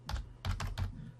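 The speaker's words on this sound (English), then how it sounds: "I will type in 6senses.nz." Keys clatter on a computer keyboard as a web address is typed, three quick bursts of close, crisp clicks with a short pause after the first.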